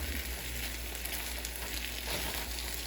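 Spam fried rice cooks in a pan with a steady, even sizzle and a soft hiss throughout, fairly close and unbroken, with no speech.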